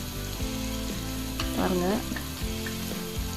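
Crab masala sizzles hard in a hot pan as freshly ground spice paste goes in, giving a steady, close frying hiss with stirring scrapes and a brief spoken word.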